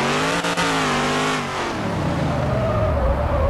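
Bugatti Chiron drifting in the racing game Car Driving Simulator 2020, a loud steady engine drone with gliding revs and tyre scrub that shifts pitch and rolls into a rougher, noisier slide.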